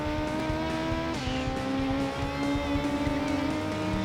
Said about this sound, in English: There goes this V6 taken from Ferrari Dino